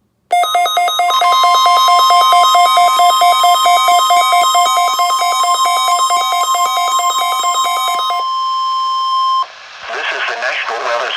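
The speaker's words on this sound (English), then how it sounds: "The preceding signal was a test of the NOAA All Hazards Radio Public Warning System on station WXJ42 from Meriden, Connecticut." NOAA Weather Radio test broadcast from station WXJ42 in Meriden, Connecticut: a loud, steady warbling electronic alert tone sustained for about nine seconds, then cutting to a burst of digital data noise.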